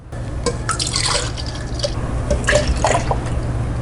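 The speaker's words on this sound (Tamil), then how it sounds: "பால் ஆட் பண்ணிக்கலாம்." Milk straight from the fridge poured into a glass tumbler while preparing a rose milk drink, giving a steady liquid splash and trickle with small drips, close and clear, without talk.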